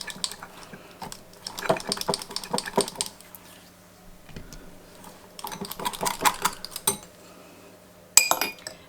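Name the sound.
mixing a vinaigrette with a spoon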